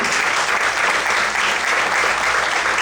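Steady, dense applause from a church congregation during a Sunday morning service, sustained at an even level throughout without a break.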